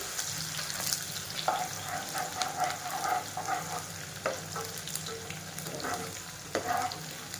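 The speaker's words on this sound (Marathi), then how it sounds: "आता आपण टाकून देऊ हे बारीक चिरलेला कांदा. कांदा पण छान ब्राऊन होत आहे आता." Finely chopped onion frying in oil for chicken biryani, a continuous soft sizzle and crackle with occasional spoon scrapes and stirring clinks, close by and fairly quiet, no voices.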